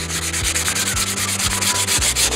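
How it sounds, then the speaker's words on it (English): Sandpaper is rubbed back and forth over wooden edges, making quick, even rasping strokes, about two per second, loud and close over a low steady hum. "Now all I'm doing is just taking some sandpaper and smoothing over the edges"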